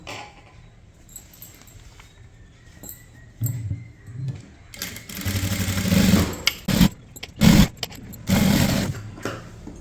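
A sewing machine stitches a blouse lining in short bursts of rapid mechanical whirring, growing longer and louder partway through, close to the listener with handling sounds between runs.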